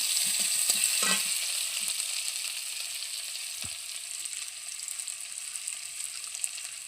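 Chopped onions fry in hot oil with five-spice tempering, a steady broadband sizzle throughout with a few brief stirring clatters near the start, close and fairly loud, no voices.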